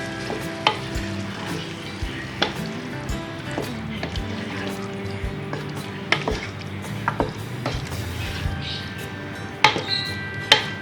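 Potato and spinach curry with ground spinach paste and masala is stirred in a pan, a spoon scraping and clacking against the metal in irregular strokes over a soft sizzle, close and fairly clear.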